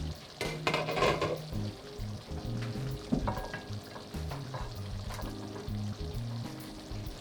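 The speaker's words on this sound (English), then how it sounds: "Okay, I'm just stirring in these mushrooms." Mushrooms are stirred into a simmering pork stew with white wine in a pan. A close, steady bubbling sizzle runs throughout, with utensil scrapes and light clinks against the pan, at moderate level and with no voices.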